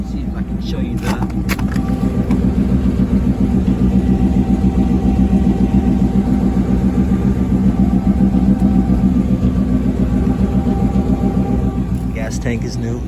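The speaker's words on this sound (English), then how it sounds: "since it's a old car, I gotta let it warm up." A 1962 Chevrolet Impala with a new Flowmaster exhaust idles on a cold morning to warm up, its engine making a steady, close, low rumble while someone talks.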